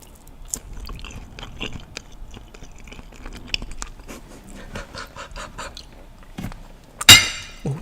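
Close-up eating of an omelet, with soft chewing and small crunchy bites of a loose piece of egg, ending in one sharp, louder crunch near the end.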